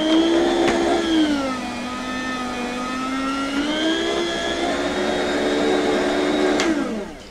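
Electric vegetable slicer running at a steady motor hum that dips in pitch under load mid-run and rises again, loud and close with no talking, cutting off abruptly near the end.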